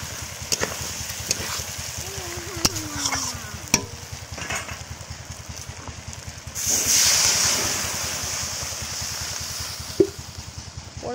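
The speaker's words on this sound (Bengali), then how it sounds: "পরিমাণ মতো ঝোলের জল দিয়ে দিলাম, এবার জাল হবে।" Water is poured into a pot of village-style desi chicken curry with potatoes, cooked outdoors in the wind. A rushing, splashing burst lasts a couple of seconds amid faint sizzling, wind noise and scattered clinks.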